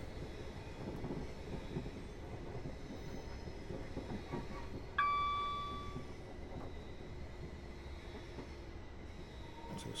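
A train runs on the Portsmouth Direct line in Train Simulator 2017, giving a continuous low rumble with a brief tonal whine or squeal partway through that fades away, and no voices.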